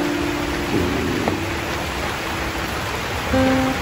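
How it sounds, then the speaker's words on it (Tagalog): Heavy rain pours down steadily in a mountain setting, a dense, even wash of noise that swells slightly louder toward the end, with a faint tone briefly audible beneath it. "Grabe, lumakas na yung ulan, Kuya Marjon."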